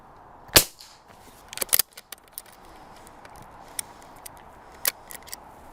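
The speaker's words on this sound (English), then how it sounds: "And there is the 9mm garden gun." A 9mm garden gun fires outdoors with a sharp, close report, followed by a couple of quieter cracks and clicks of the action, then further faint clicks and a small pop later.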